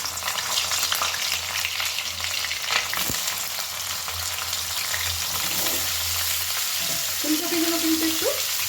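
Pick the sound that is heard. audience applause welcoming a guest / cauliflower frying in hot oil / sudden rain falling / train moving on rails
cauliflower frying in hot oil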